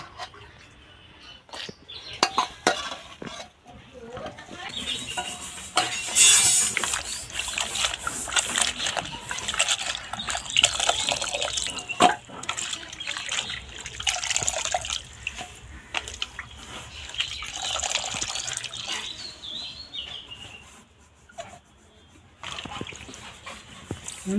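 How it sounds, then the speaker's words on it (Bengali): Tender pumpkin shoots and leaves being washed by hand in water in a village kitchen, with repeated splashing, dripping and sloshing close by, continuing steadily with brief louder bursts. "এখন আমি পরিষ্কার করে ধুয়ে নেব"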